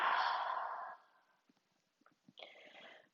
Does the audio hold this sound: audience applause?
no